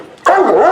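A loud, close dog vocalization, a drawn-out bark or yowl with a whiny tone, starting abruptly.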